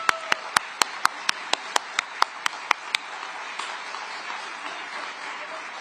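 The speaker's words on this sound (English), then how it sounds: "Let's applaud this historic moment." Applause from an audience at a pledge document signing in Central Florida, opening with a dozen loud, evenly spaced sharp claps that blend into a softer, sustained crowd patter.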